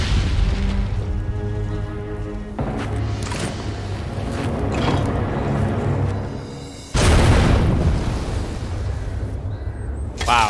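Cannon fire in the Wild Hearts mountain boss fight: deep booming blasts over a rumbling game soundtrack, with one heavy loud burst standing out near the end, close and powerful.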